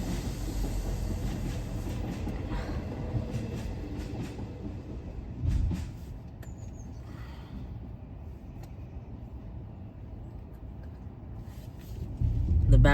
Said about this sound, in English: Here comes the train. It's Northern Rail, class 158.